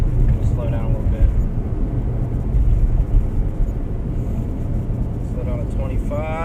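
Ford EcoBoost Mustang engine while driving, a steady loud low drone and road rumble inside the cabin with slight variation as the car slows, with someone talking over it.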